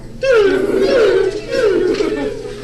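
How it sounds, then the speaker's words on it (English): Children act out an excited crowd at the March on Washington, their voices swelling in loud, sustained rising shouts and cheers that dip briefly before surging again. "there's a huge crowd of people"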